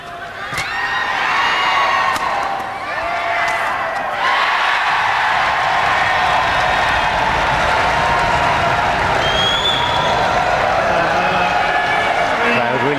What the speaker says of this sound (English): Crowd really getting behind Susanti and giving her the lift.